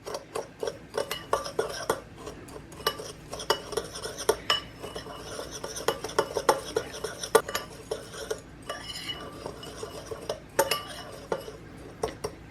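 Dry almond meal and cinnamon topping for sand cookies being mixed in a bowl, a steady run of quick scraping strokes with frequent light clinks of utensil against the bowl, close and continuous.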